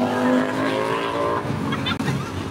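A Ducati superbike engine runs on a city street at Marine Lines, Mumbai. It makes a loud, close, throaty rumble that rises and dips, with a brief sharp break near the end.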